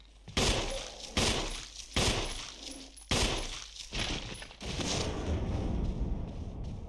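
Gunshots ring out in Resident Evil, five or six loud, sharp reports spaced about a second apart, each trailing a brief echo, followed by a lingering rumble.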